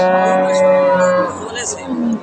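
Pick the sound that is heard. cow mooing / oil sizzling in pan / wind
cow mooing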